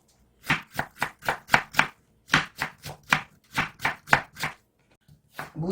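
Kitchen knife chopping radish into thin julienne strips on a cutting board, crisp rapid chops in quick bursts of five or six with short pauses between, close and clear with no talking.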